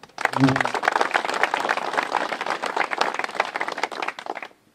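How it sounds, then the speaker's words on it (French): Steady, dense clapping from an outdoor audience at a commemoration ceremony at a memorial marker, with a brief voice at the start and applause stopping cleanly near the end. "qu'on va également applaudir"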